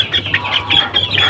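Young Indonesian native kampung chicks peep and chirp in quick, high, overlapping calls close by, a busy continuous twittering that runs throughout without pause.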